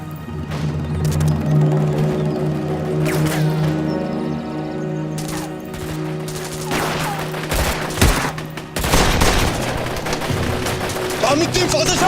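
Pistol gunfire in a battle, loud, close and repeated, with sharp cracks and bursts over a low, steady background drone. Voices briefly come through between the shots.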